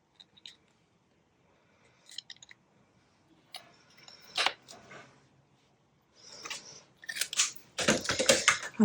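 Scissors snip little paper flowers off the end of a papercraft piece, giving sparse, faint clicks early on, then closer, louder cutting and rustling toward the end, with no voices.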